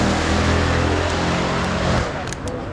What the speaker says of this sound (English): before I was really interrupted by a street race